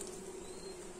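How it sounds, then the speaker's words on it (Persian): A bee buzzes near locally harvested pure honey, a steady faint drone lasting about a second with no voices over it. "این زنبور"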